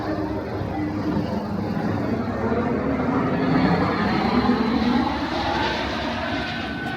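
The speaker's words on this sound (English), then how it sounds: "Spirit Airlines planes everybody just calls flying bananas." A Spirit Airlines plane, the kind nicknamed a flying banana, rumbles overhead above a Jackson Heights street in Queens, a steady broadband roar that swells slightly midway and holds throughout, with a voice talking faintly beneath it.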